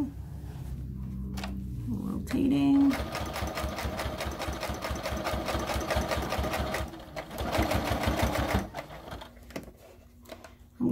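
Sewing machine running steadily as it stitches fabric for a makeup brush holder, a dense rapid mechanical whir with brief pauses and restarts, close and fairly loud, with short gaps between runs.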